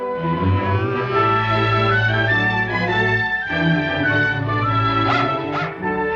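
A full-grown dog gives loud, close barks and yips with a whimpering edge, arriving in a quick irregular series against a sustained tonal background.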